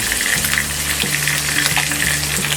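Ginger, green chili and onion frying in a little oil for sevai upma, a loud, dense, steady sizzle close up with soft stirring scrapes beneath.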